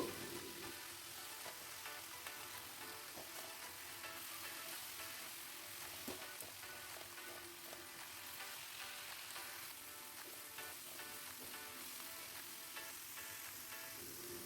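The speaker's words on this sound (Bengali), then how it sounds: "পেঁয়াজ দিয়ে ভালো করে একটু ভেজে নিতে হবে" Chopped onions fry in oil for a bhetki fish dish, producing a faint, even sizzling hiss that holds steady from start to finish with no talking.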